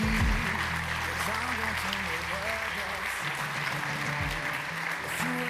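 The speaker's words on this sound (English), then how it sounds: "please give another roaring applause for our gold" Sustained applause from a conference audience honoring gold sponsors at a tech event's center stage, steady and dense throughout, with a voice and low tones running beneath the clapping.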